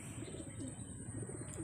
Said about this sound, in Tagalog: Yan na nga yung ating bagong ibon dito.